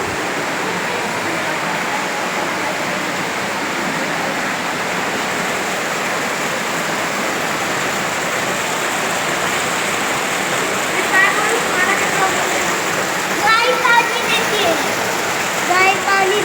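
Water pouring steadily from a cow-shaped spout at the Panchganga temple in Mahabaleshwar, a continuous broadband rush like a small waterfall, close and even throughout, with faint chirps and voices surfacing near the end.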